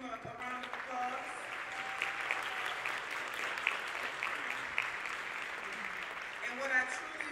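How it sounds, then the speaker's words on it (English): A school band's holiday concert audience claps steadily for several seconds, a dense, even roar of applause in an indoor hall with some voices mixed in. "give him a round of applause"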